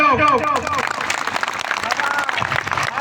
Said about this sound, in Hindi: उमन के लिए जोर ताली हो जाओ